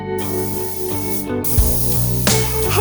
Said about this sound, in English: So when I started laying down clear coat, it became a misty, foggy night full of chemicals